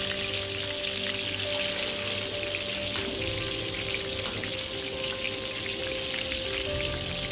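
Medu vada batter fries in hot oil on low flame, a dense, steady crackling sizzle like heavy rain that stays loud and close throughout with no talk.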